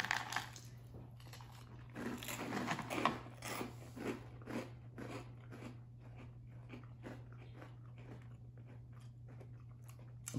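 Dry Kellogg's Eggo Maple Homestyle Waffle Cereal crunched by mouth, a quick run of close crisp bites and chewing crunches that slow and soften as it goes, over a steady low background hum.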